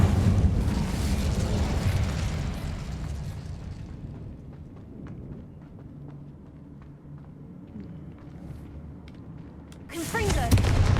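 An Incendio fire spell cast in Hogwarts Legacy: a loud roaring blast of flame that decays over several seconds into a low rumble, followed by a fresh burst near the end.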